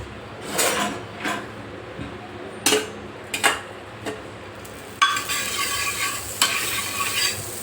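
Stuffed potato paratha placed on a hot tawa, a few sharp scraping and clattering bursts of handling at first, then a steady sizzle of frying that continues to the end.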